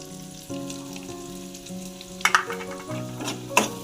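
Masala spice mix sizzling and frying in a pan for a vegetable curry of agathi (hadga) bean pods, steady close hiss with a few sharper crackles and stirring scrapes.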